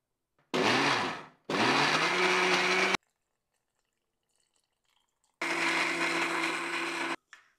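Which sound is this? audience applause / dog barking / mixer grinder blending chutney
mixer grinder blending chutney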